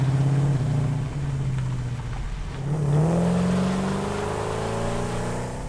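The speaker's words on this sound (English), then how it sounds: "Try not to get the car stuck in the water." A car driving in the Satisfactory video game, its engine drone steady and then rising as it revs up midway, with no one talking over it.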